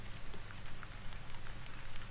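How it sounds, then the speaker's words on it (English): Rain falls steadily in the hunting game theHunter 2015, a dense, even patter of drops on surfaces with a low rumbling undertone, continuous and without talk. "Here comes the rain."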